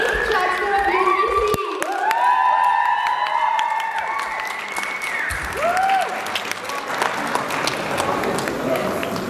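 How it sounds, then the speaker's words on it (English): Audience at a university Diwali festival applauding and cheering a newly named chancellor, with loud sustained clapping mixed with shouts and whoops from the crowd, and voices calling out over the noise. "let's give her a big round of applause and congratulate her on becoming the eighth chancellor of UBC"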